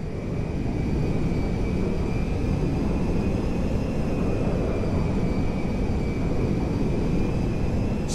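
Meriwether jet in GTA V coming in to land at Mackenzie Field, a steady broadband engine roar with a thin high whine holding constant and loud throughout, no voices.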